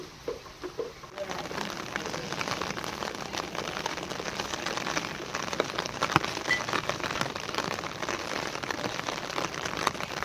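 Steady, dense rain patters on a surface in a village, a constant close hiss that continues throughout, with a brief quieter moment at the very start.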